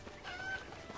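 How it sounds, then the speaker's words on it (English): A chicken in the Hyrule Warriors video game clucks briefly, a short burst of fowl calls over a steady bed of game sound. "chickens are back"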